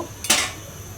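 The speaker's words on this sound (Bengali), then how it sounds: "তো চালটা আমি চামিচের সাহায্যে দিচ্ছি।" A spoon tips rice into a pot holding a litre of milk for payesh, giving one brief clatter of grains and metal against the pot, close by and clear, followed by quiet.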